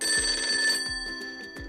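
An old 1950s-style telephone bell rings in steady repeated bursts, loud and close, with a continuous electric trill and no speech.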